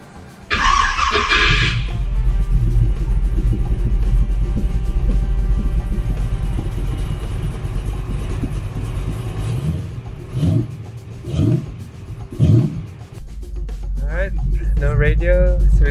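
A 1969 Ford Mustang Mach 1 with an automatic transmission rumbles close by at a steady idle-to-mid pitch, with a few short revs near the end and people talking over parts of it.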